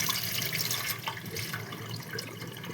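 Lentils are rinsed in water for tomato dal, with close splashing, trickling and sloshing in a bowl or sink, continuous and fairly soft, no talk.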